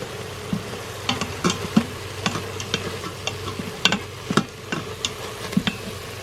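Ground beef sautés in a pan outdoors, giving a steady sizzling hiss broken by irregular clicks and scrapes of stirring, with no talking.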